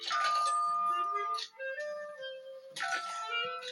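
Telephone ringing for an elephant to answer during a commercial shoot: two bursts of bright, tonal ringing, loud and close, separated by a quieter stretch of lower sustained tones.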